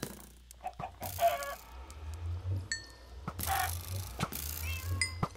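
Zombie chickens in a Minecraft mod cluck and crow in short, separate bursts over a low steady game hum. The calls come at intervals and sit at moderate volume.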